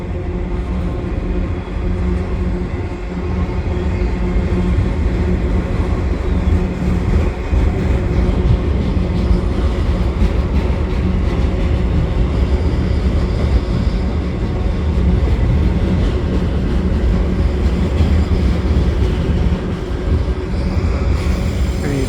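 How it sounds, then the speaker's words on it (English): CN local and a long four-engine freight train roll over the Lachine Canal bridge in Montreal, a steady loud rumble of engines and wagons holding for the whole stretch without a voice. "See the trains coming through the sweeping curve there and into Saint-Henri across the Saint-Ambroise Street crossing."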